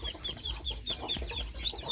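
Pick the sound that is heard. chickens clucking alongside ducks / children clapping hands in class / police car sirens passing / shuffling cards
chickens clucking alongside ducks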